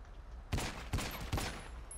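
Gunfire during a gas station robbery in a GTA-style video game: three separate loud blasts roughly half a second apart, each with a sharp onset and a short ringing tail, over quiet background ambience.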